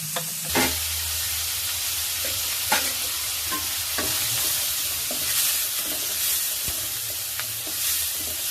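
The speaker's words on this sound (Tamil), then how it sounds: "நல்லெண்ணெய் ஊற்றி கடுகு போட்டு சோம்பு வெந்தயம் போட்டு வதக்கிட்டு" Mustard seeds fry in sesame oil with a steady close sizzle and crackle, while a spoon scrapes and clicks against the pan in irregular stirring strokes.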